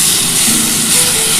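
Spice paste hits hot oil already tempered with whole cumin and whole garam masala, giving a loud, dense, steady sizzling hiss that fills the short moment.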